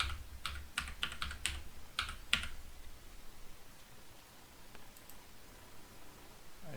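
Keys clicked on a computer keyboard while entering a password, a quick burst of close, quiet keystrokes for about two and a half seconds, then a few faint taps against a soft background hiss.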